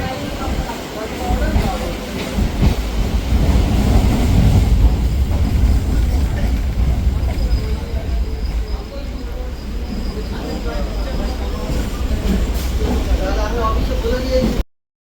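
A passenger train on a single-line track rumbles along at a steady pace, a loud, continuous roar with a rattle and airy hiss from inside the carriage, until the sound cuts off abruptly at the end.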